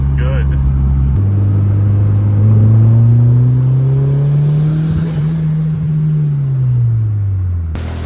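A boosted Honda Civic with a stock ECU, engine revving up smoothly under load and then settling back toward idle, loud and close throughout.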